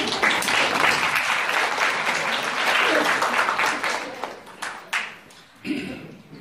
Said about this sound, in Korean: 박수 한번 부탁드려요